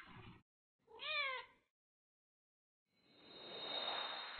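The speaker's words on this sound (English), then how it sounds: "There's a kitty!" A cat in the video game Another Eden gives a clear, close meow with rising and falling pitch, followed by a soft whooshing game sound.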